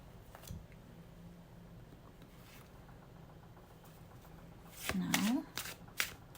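Tarot cards are shuffled close by, with soft isolated riffles early on and then a quick burst of brisk flicking and slapping near the end over a faint background hum; someone speaks quietly.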